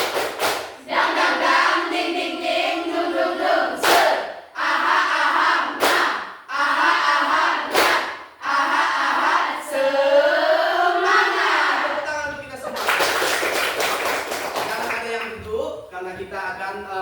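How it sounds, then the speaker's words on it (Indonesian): A group of teachers at an Indonesian school performance exam does a rhythmic 'tepuk semangat' clapping cheer, with loud chanted call-and-response voices over sharp hand claps and thumps, ending in a burst of crowd noise. "Tepuk semangat."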